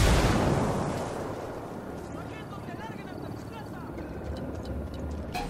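A frag grenade explodes in Ghost Recon Wildlands: a loud, close blast right at the start that fades into a long rumbling roar, with muffled voices in the background.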